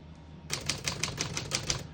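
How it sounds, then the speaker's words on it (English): Keys strike a 1950 Smith-Corona Silent portable typewriter one after another in single-spaced typing, about eight crisp, evenly paced clacks at close range with no talking. "We're going to keep it on single and finish typing."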